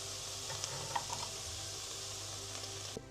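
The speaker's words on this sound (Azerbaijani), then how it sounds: "Doğradığımız soğanları kərə yağında qovururuq." Chopped onions frying in butter in a pan give a faint, steady sizzling hiss with a few soft ticks from stirring, heard close and without talk.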